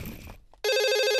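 Telephone ringing in an animated 3D cartoon: after a short moment of quiet, a loud, continuous electronic ring tone starts and holds steady to the end.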